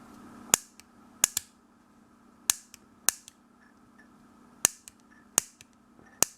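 A homemade mini fireball pistol igniting its fuel when squeezed, sharp snapping pops repeated about eight times at irregular intervals, each a crisp close crack with a brief tail over a faint steady hum.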